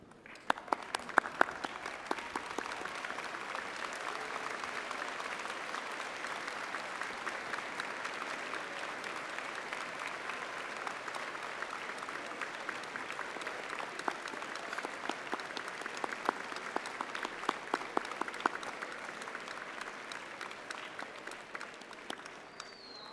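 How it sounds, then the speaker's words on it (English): A graduation ceremony audience giving a long, sustained round of applause, dense clapping from a large crowd in a hall, steady and enthusiastic from start to finish. "join me in thanking them with a huge round of applause"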